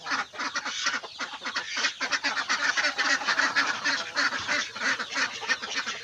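A flock of ducks quacking loudly and continuously nearby, many overlapping nasal honks in a busy, irregular chorus from a backyard poultry pen.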